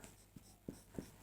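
Chalk or marker scratches on a board during a numbers lesson, four short faint strokes spaced roughly a third of a second apart in a quiet room.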